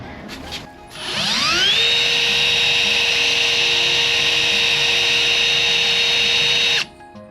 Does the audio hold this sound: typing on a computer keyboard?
no